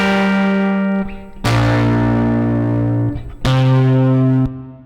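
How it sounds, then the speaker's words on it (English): Sustained distorted electric guitar chords, loud and buzzing, each ringing out with a spacious plate reverb tail of about two seconds before the next strike. "And while I do like the great distortion"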